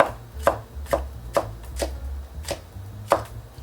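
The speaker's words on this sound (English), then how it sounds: "Red pepper, small diced." Knife dicing red pepper on a cutting board, heard as sharp, evenly spaced chops about every half second, close and crisp over a low background hum.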